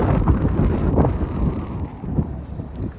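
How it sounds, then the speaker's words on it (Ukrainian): Strong wind batters the microphone with a continuous low, blustery rumble that rises and falls in gusts, with no voices. "Вітер страшний."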